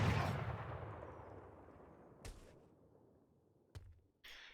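Heavy cannons in an Age of Empires III match fire with a loud booming blast that rolls off slowly, then two sharper, shorter reports follow a couple of seconds apart, with no talk over them.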